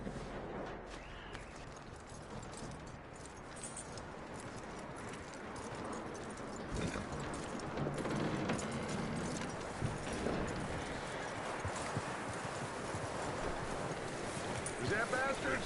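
Horse hooves clip-clop at a steady walking pace in Red Dead Redemption 2 across the full stretch, moderately close, with a soft wind-like background and brief voices in the game.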